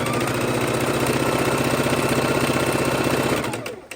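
A sewing machine used for quilting runs steadily with a fast, even mechanical chatter, loud and close, before winding down and stopping at the end.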